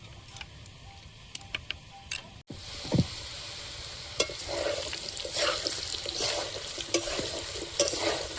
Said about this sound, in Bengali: আলু ভাজা কত দূর? আলু এখনো ভাজা হবে আরো।